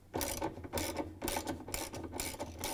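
A socket wrench ratchet loosening the agitator bolt inside a Whirlpool, KitchenAid or Maytag washer tub gives steady rhythmic clicking bursts, close and fairly loud, in repeated strokes with no talking.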